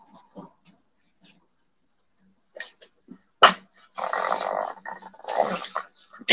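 An agitated dog makes short snorts and huffs, then breaks into longer raspy, growling snorting bursts, close and fairly loud, with quiet gaps in between.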